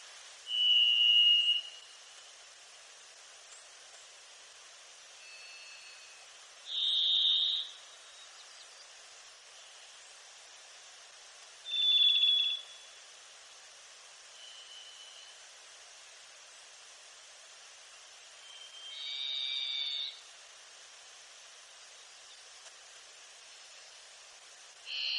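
Faint, distant thrush song: a handful of short, clear, high whistled phrases spaced several seconds apart over a soft hiss of background noise.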